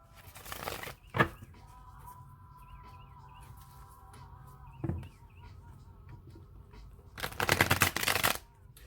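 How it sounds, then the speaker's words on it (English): Tarot cards being shuffled in two quick riffling bursts, one at the start and a longer one at the end, with birds chirping softly between. "I'm going to shuffle it 2 more times"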